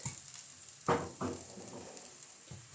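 Onion crepes fry in a lightly oiled pan, a soft, steady sizzle with two sharper hissing bursts near the start, heard alone without talk.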